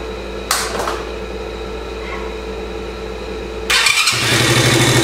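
A Chinese 50cc-125cc ATV engine cranks after a starter chain replacement: a steady starter whine and hum, then near the end the engine catches with a louder, rougher, sustained running sound, heard close with no talk.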